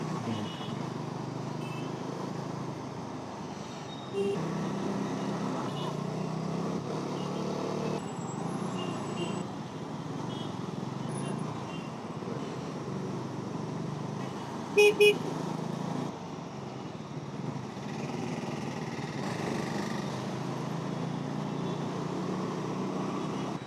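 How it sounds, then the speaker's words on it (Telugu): Heavy road traffic hums in a continuous roar of cars and motorcycles, with a sharp double horn toot midway and fainter honks and engine swells throughout. "ట్రాఫిక్ మామూలుగా లేదుగా."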